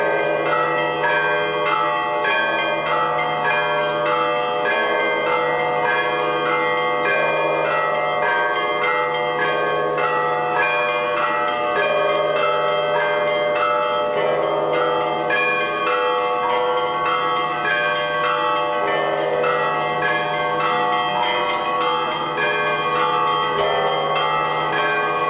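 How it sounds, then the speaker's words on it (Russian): Cathedral bells peal over the Kremlin in Kolomna, joined by smaller bells, ringing continuously and loudly in a layered, overlapping rhythm with no talk. "Звон соборных колоколов разливался над Кремлем. Его подхватывали маленькие колокольчики"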